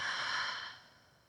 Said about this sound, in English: And a long breath out.